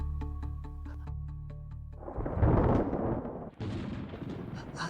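Loud thunder rolls in as a deep, booming rumble that swells and cracks after a couple of seconds of steady tonal background, then fades slightly and rumbles on.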